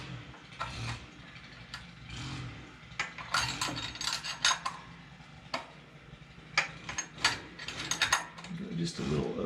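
A 5/8 wrench turns the carburetor float adjustment and lock screw on a Fox Body Mustang, producing close, irregular metallic clicks and ratcheting ticks that come in quick clusters, with no talking.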